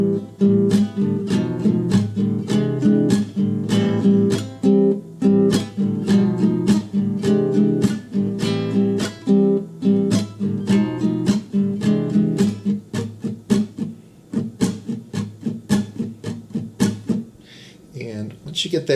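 Acoustic guitar strums the basic rhythm of a song, a steady run of crisp chord strokes that stays close and even for the whole passage with no voices.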